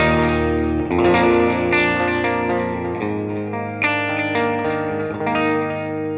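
Electric guitar runs through the ToneX default digital delay, with clean, bright picked notes and chords that repeat as crisp echoes trailing behind each phrase. The guitar plays alone and sounds loud and up front.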